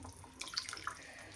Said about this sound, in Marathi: आता आपल्याला जेवढं पाणी टाकायचं आहे ना तेवढं आपण ॲड करू शकतो